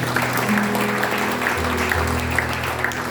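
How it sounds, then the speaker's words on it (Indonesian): A church congregation claps together during a sermon, a steady, full wall of applause that holds at an even level for the whole stretch. "Beri tepuk tangan mari bersama."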